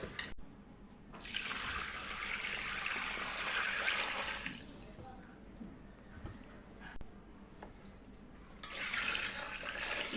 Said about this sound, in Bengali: এখানে আমি পাতিলটা প্রায় ভরে পানি দিচ্ছি